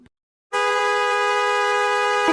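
A loud, steady vehicle horn blares continuously for about two seconds after a brief moment of quiet, then cuts off.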